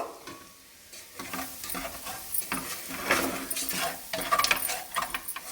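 Rice, onion and salt for dal kichidi stirred with a spoon in a pan, giving repeated scraping strokes over a soft frying sizzle, close and fairly loud, no voices.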